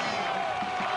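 A crowd cheers and roars at a canoe racing final in Szeged, spurring on a Hungarian sprint canoeist in the men's C-1 1000 m, a dense, steady wash of voices over a brief moment.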